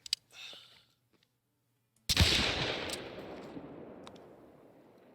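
One loud, sharp rifle shot in the hunting game theHunter: Call of the Wild, cracking suddenly after near silence and rolling into a long, fading echo across open terrain, with brief faint handling noises before it.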